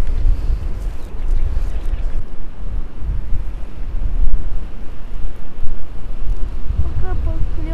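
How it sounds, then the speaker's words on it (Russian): Gusty wind roars and buffets the microphone outdoors while spinning for pike and perch, a steady low rushing noise that swells and eases, with a faint voice near the end. "Видишь, как ветер дует, смотри,"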